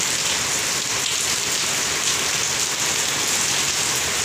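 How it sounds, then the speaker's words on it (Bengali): Rain pours steadily onto surfaces during a rainy spell in Jhargram, a dense, even patter of drops that stays constant and fairly close throughout. "খুবই ভালো বৃষ্টি, আনন্দ উপভোগ"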